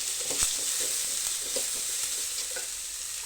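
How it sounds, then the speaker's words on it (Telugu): Onions sizzle steadily in hot oil in a pan, with soft scraping stirs and occasional light taps of the utensil, close and moderately quiet with no talk. "ఆనియన్ మంచిగా వేసుకోవాలన్నమాట మంచిగా వేగాలన్నమాట మగ్గిపోవాలి ఆనియన్"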